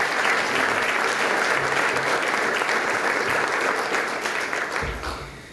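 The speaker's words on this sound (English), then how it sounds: "please join me in giving them a round of applause" A large summit audience applauds legislature members with dense, steady clapping at a loud, even level, tapering off near the end.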